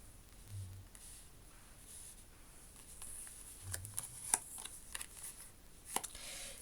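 Tarot cards being shuffled and handled close by, soft riffling and brushing with a few sharper flicks and taps, quiet and irregular with no talking.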